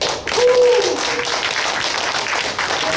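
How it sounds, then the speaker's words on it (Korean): A church congregation breaks into loud, dense applause that fills the space and carries on steadily, with a voice briefly heard over the clapping near the start. "박수를 좀 크게 청하며."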